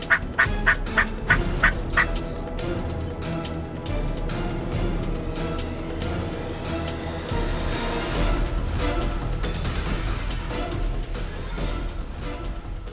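Wild turkeys in a New York field, a group of hens and a longbeard, gobbling loudly in a burst of repeated calls at the start, followed by a steady chorus of clucks and yelps that continues to the end.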